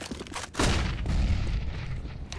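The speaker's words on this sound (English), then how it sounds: "Throw in a flashbang!" A flashbang bursts in a tactical video game, followed by rolling booms and gunfire that sustain a loud, rumbling roar for a couple of seconds.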